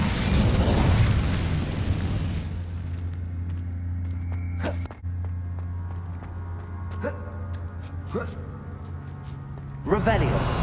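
A fire spell cast in the Hogwarts Legacy video game bursts out as a loud, whooshing blast at the start, followed by a steady humming drone and several sharp pops and bangs spaced through the rest of the clip.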